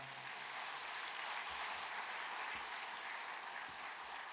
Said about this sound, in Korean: 목사님께 다시 한번 큰 박수 부탁드립니다